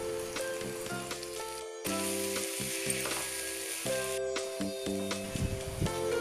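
Ginger garlic paste, turmeric, salt and chilli powder sizzle loudly in a hot pan, a dense crackling fry with steady tonal hum and intermittent scraping stirs, briefly surging louder in the middle, with no voices.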